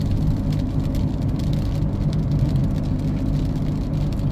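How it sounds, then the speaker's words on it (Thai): Rain falling during a night drive, a dense steady hiss of drops on the car mixed with a low engine and road rumble, continuous and close, with no talk. "ฝนก็ตกตลอดทางเลยนะครับ"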